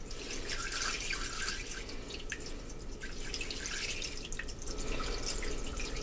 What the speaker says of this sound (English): we're going to go ahead and pour some apple juice in here